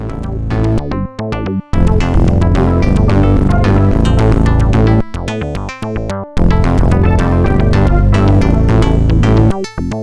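Flechtwerk instrument plugin on Linux plays a dense, loud synth passage with sustained harmonic tones and rhythmic stabs, dropping out briefly in short gaps before resuming.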